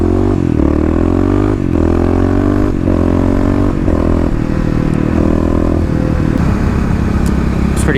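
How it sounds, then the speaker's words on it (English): A Kawasaki KLX351 dirt bike engine runs loud and close. Its throaty drone rises and falls through repeated revving swells, with a rattling clatter over the steady exhaust note. "KLX is running pretty dang well."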